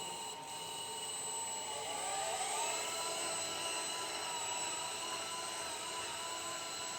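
A 1/14-scale KCK RC hydraulic reach stacker, a Terex TFC45 container handler, driving and steering with a steady high electric whine and motor drone that holds evenly throughout, fairly close and without talk.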